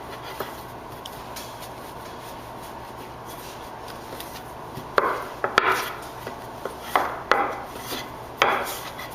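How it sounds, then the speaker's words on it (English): A large rolling pin works bread dough on a floured surface, giving soft rubbing rolls followed by a cluster of light knocks and thumps as the pin is handled, all close and fairly quiet. "with a large rolling pin, and I'll roll away from me and then start rolling towards myself."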